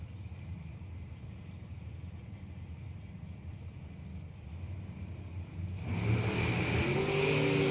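Drag race cars launch side by side down the strip, the engine roar rising sharply into a loud, sustained wall of sound after a steadier idling rumble.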